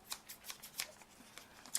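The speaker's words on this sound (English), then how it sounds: "scissors that will cut a fringe" Fringe scissors snip into a potato chip bag, giving a quiet, quick series of crisp cutting clicks at a steady rhythm, close and alone.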